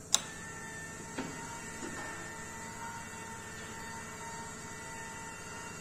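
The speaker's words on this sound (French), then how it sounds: "La machine est en cours de fonctionnement et on a une caisse qui a été positionnée sur le convoyeur" A palletizing machine runs with a box moving along its conveyor. It gives a quiet, steady mechanical hum and whine, with a sharp click at the start and a couple of fainter knocks, and no talking.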